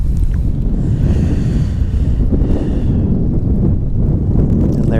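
Strong, rough wind buffets the microphone at a lake shore during wading bass fishing, a constant loud low roar with lapping water and no voices.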